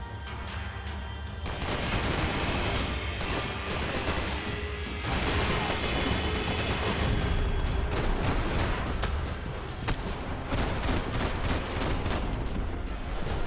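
Video-game gunfire in Max Payne 3: dense, continuous bursts of shots and rapid automatic fire rattle on steadily with no clear pauses, fairly loud throughout.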